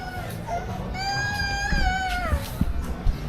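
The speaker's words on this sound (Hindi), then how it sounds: "वो छोटा बच्चा रो रहा था ना" A small child cries on a busy street in Marrakesh, Morocco, a rising and falling wail lasting a couple of seconds amid crowd noise and background chatter.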